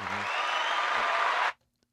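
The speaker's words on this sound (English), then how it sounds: "Gotta applaud that." A crowd claps loudly for over a second, a steady burst of applause that stops abruptly.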